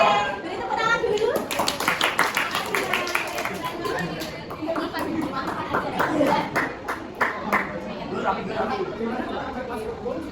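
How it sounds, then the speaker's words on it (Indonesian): A class of schoolchildren claps hands in a loose burst of rapid claps that trails off, with chatter and voices mixed in. "Oke, beri tepuk tangan dulu."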